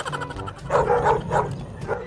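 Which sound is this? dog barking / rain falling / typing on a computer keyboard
dog barking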